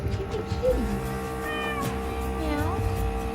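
A cat on a homestead meows a few times, with clear rising and falling calls close to the listener, over a steady background hum and quiet human vocal sounds.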